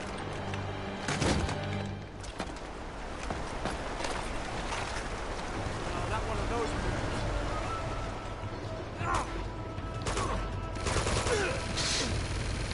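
Gunfire in Uncharted 2: Among Thieves, with scattered sharp shots and short bursts over a busy background of movement, and a voice talking at times.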